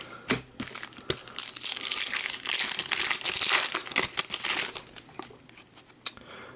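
Foil wrappers of 2014 Bowman Chrome and 2017 Gold Rush football trading card packs being torn and crinkled open, a close, continuous crackling rustle with brief pauses.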